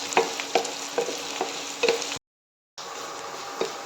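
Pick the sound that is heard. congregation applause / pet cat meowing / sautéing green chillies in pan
sautéing green chillies in pan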